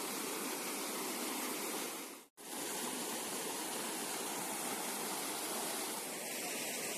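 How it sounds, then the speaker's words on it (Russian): Rushing water from mountain waterfalls and a stream in the Mrtvica river canyon in Montenegro makes a dense, steady hiss, loud and unbroken apart from a momentary cut. "Водопады с горы."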